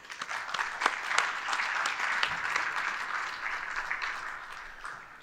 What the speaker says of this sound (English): I'd like to give him a big round of applause.